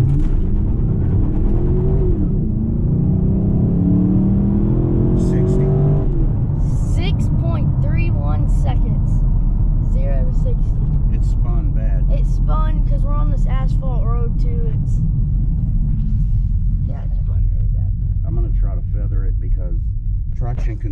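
A Pontiac G8 GT fitted with a Camaro SS differential at a 3.27 ratio accelerates hard from a standstill, its engine note climbing through the rev range under a constant loud cabin rumble while occupants talk and exclaim over it.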